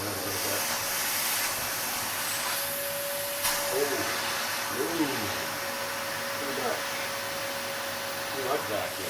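Vacuum pump on a vacuum forming machine, a steady high hissing whine running throughout at a fairly close distance, with a constant tonal hum and brief rustles and a clunk partway through.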